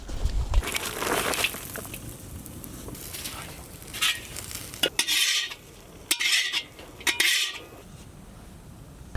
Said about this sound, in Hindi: उसी लिए हम लोग इसमें कोकोनट पाउडर ऐड करके भुनेंगे। इसी पाउडर के साथ साथ हम लोग स्लाइस्ड ऑनियंस भी भुनेंगे।